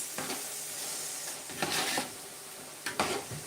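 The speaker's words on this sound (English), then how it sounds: "Ideally, we fry our tomato and" Soft, steady sizzling of tomato frying in a pot, with a few louder stirring or scraping bursts.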